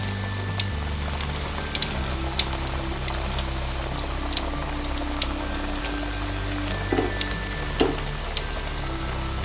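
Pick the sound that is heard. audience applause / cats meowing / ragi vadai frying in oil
ragi vadai frying in oil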